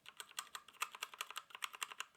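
Rapid keystrokes on a Havit 60% mechanical keyboard, about a dozen crisp clicky presses in quick uneven rhythm, close and clear with no talking.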